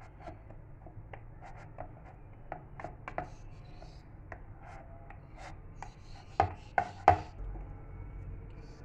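Amla, Indian gooseberries, being cut with a knife on a board for jelly, a quiet series of soft chopping taps at an uneven rhythm, ending with three sharper, louder knocks.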